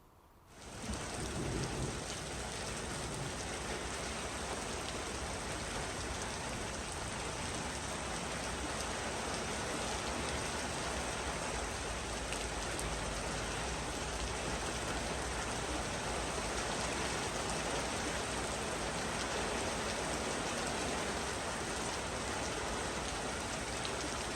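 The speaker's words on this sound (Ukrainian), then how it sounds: "Ну, все ж таки, нас дощ застав." Steady heavy rain pours down in a dense, continuous hiss, close and unbroken, with a faint low rumble beneath.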